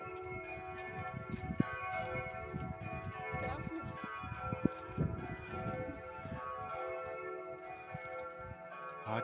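A church bell peal rings in Vranov nad Dyjí, full sustained tones overlapping continuously, with scattered outdoor clatter and a few low voices beneath.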